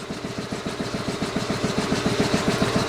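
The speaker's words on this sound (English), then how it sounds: "Don't feel like waiting on the air compressor. It'll shut off in a minute." A shop air compressor runs hard and shakes, its motor chugging in a steady fast pulsing rhythm that stays loud and even throughout, close by with no voices.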